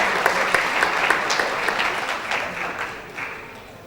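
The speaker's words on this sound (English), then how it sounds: "please give a warm round of applause to the Executive Director of the Foundation, Mrs. Adeleke Adeyemi." A conference audience at an emerging leaders event claps for a speaker being introduced, with loud, close, sustained applause that slowly thins toward the end.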